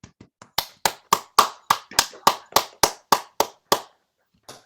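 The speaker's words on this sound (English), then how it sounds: "give our three distinguished panel of panelists a round of applause" About fifteen sharp hand claps in a steady, even rhythm, starting soft and growing louder before stopping abruptly; sounds like only a few people clapping.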